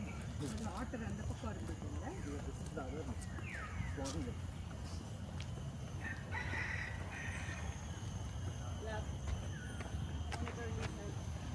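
Rooster crowing in the Singapore Botanic Gardens, faint and distant among outdoor ambience, with people talking nearby over a steady background hiss.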